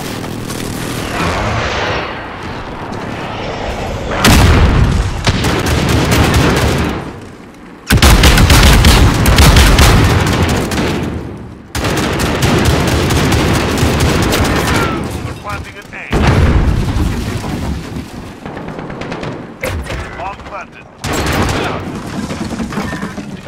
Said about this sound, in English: Precision airstrike in.